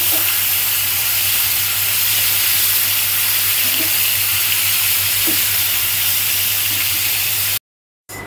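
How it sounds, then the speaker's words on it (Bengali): Pangas fish frying in a pan, a steady broadband sizzle and hiss that carries on evenly throughout, with a brief dropout near the end. "এই যে মাছগুলো ভেজে নিচ্ছি, ভুনা করব। এখানে পাঙাশ মাছ আছে, সুন্দর করে মাছগুলো ভেজে নিয়ে"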